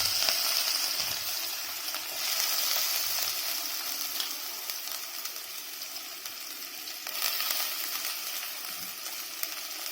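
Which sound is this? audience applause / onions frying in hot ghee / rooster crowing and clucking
onions frying in hot ghee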